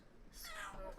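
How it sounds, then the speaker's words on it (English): A Persian cat gives a short, faint meow, heard close by in a quiet indoor room. "She's the 2nd oldest cat."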